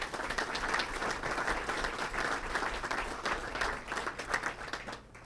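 Audience applause rings out at a 2014 State of the City address in Elmhurst, a sustained wash of many hands clapping at moderate distance, easing off toward the end.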